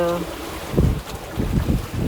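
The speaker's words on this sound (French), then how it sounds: "c'est quand j'ouvre toutes ces voiles et que je navigue sans moteur" Sailboat under full sail with no engine running, wind rushing steadily across the microphone with rhythmic swells of water sloshing against the hull, fairly close and loud; a voice speaks briefly over it.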